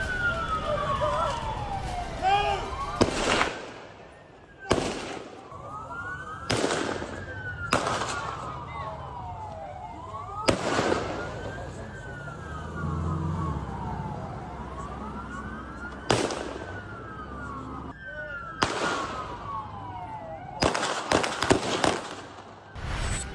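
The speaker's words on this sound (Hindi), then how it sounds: "नावेद अकरम ट्रेंड आतंकी की तरह ताबड़तोड़ फायरिंग कर रहा है।" Rapid bursts of gunfire crack out repeatedly during a mass shooting at Bondi Beach in Sydney, while wailing police sirens sweep up and down continuously underneath, and voices are heard at times.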